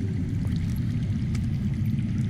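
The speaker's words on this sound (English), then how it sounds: "I hear water. From underground." Underground water flowing in a Game of Thrones video game, a steady low rushing wash that holds evenly throughout and sits close and fairly loud, with no voices over it.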